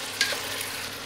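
Fried onions (beresta) are stirred into a pot of haleem with meat, a quick scrape of the spoon followed by a steady, close sizzle and soft stirring noise.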